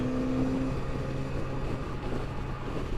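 Kawasaki Z900RS motorcycle cruising at highway speed around 4,500 RPM in sixth gear, a steady low engine drone with rushing wind noise, constant and unbroken.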